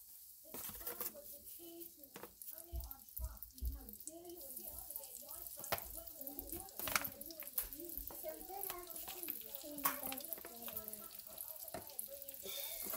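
Food fries steadily in a hot skillet, a soft continuous sizzle with light clatter, while someone talks over it.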